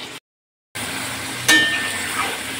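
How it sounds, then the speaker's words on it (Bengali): Yogurt-marinated chicken goes into a pan with fried onions and cumin, and a brief dropout is followed by a steady sizzle that jumps louder at a sharp clink and settles into continuous close frying. "এবার আমি দই মাখানো মাংসটা দিয়ে দেবো"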